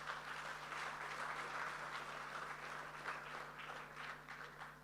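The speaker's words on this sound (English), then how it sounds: "Ladies and gentlemen, another round of applause" An audience applauds at the AFREXIMBANK CARICOM office launch. The clapping is fairly faint and steady throughout, with a low hum underneath and no speech on top.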